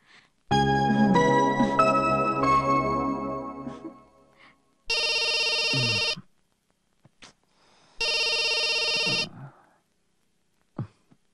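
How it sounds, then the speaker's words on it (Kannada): A telephone rings with an incoming call, first as a melodic ringtone phrase, then two loud, even electronic ring bursts separated by silence. "ಆನಂದಗ್ ಫೋನ್ ಮಾಡಿ ತಮಾಷೆ ಮಾಡಿದ್ರೆ ಹೇಗೆ?"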